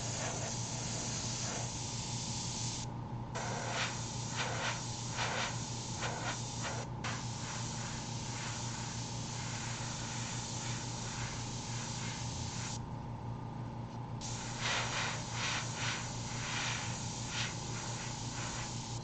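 An airbrush sprays paint over a face stencil in a long continuous hiss with short breaks, accompanied by faint clicks and a steady low hum of the compressor.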